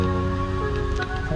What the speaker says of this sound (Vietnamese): hiện tại thì là đang mưa rất to đấy các bạn ạ